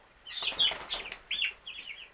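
Cornish Cross broiler chickens cluck and chirp in short, high bursts, a few close calls spread across a couple of seconds in a quiet pen.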